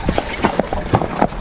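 Draft horses haul two hitched log wagons along a road, their hooves striking in a quick, uneven clip-clop rhythm, close and distinct over faint background noise.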